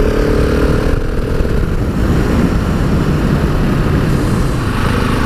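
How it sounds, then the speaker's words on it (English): Husqvarna 701 Supermoto motorcycle engine revving hard under acceleration, a loud continuous single-cylinder roar with wind rush, heard close from the rider's position with no talk. "The engine punch on the Husqvarna 701 Supermoto."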